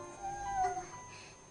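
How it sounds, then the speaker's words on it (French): A kitten in the Shenmue video game gives a single short, high meow, fairly faint, with no talk over it. "Ah, elle a trouvé un chaton, c'est ça?"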